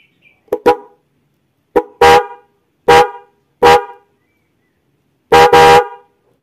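A Denso car horn wired without a relay honks in short bursts: two quick toots, then several longer blasts, loud and close with silence between.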